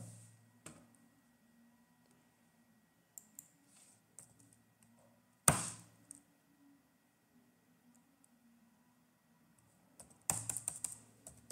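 Computer keyboard typing a command in a quiet room, scattered soft key clicks with a few louder clustered bursts, including a firm single press midway and a rapid flurry at the end.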